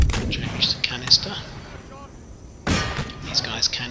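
Cannons firing canister shot in the Empire Total War strategy game, heard as sharp booming blasts with crackling impacts in two bursts, moderately loud over game background noise.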